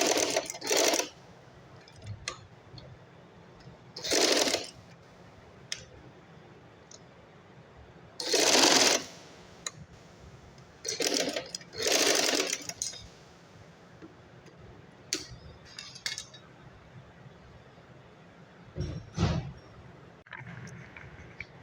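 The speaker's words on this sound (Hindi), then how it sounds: "अब हम सिलाई कर देंगे" Domestic sewing machine stitching fabric and elastic for a child's trouser waistband, running in several short loud bursts separated by pauses, close up with quiet handling noise between runs.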